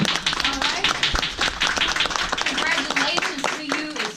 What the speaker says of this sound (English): Let's give this group a round of applause for choosing to serve